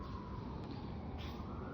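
Ambulance siren outside, a faint steady rising wail heard through a wall beneath dense noisy background hum.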